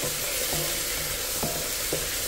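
Spices frying in a pan on an electric stove, a dense steady sizzle broken by a few knocks of a stirring spoon.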